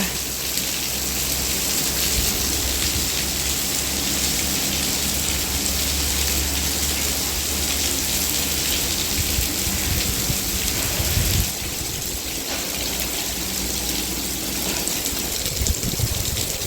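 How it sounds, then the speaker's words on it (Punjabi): Heavy, continuous rain pours down in wind during a Punjab storm, a dense, steady roaring hiss with a low rumble underneath, constant and close throughout, no voices. "ਲਗਾਤਾਰ ਤੜਕੇ 5 ਵਜੇ ਦੀ ਹੋ ਰਹੀ ਆ ਬਰਸਾਤ ਲੈ ਹੁਣ ਹਵਾ ਚੱਲ ਪਈ"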